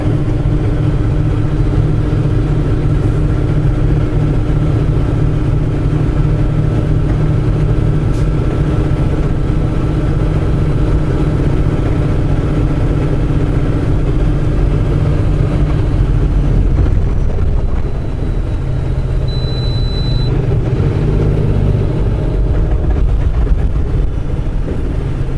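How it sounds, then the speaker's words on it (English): A truck's Jake brake set on high drones as a loud, continuous low engine roar, steady throughout with a slight shift in pitch partway through, close and with no talking. "Man, the Jake brake on this truck is just very, very powerful."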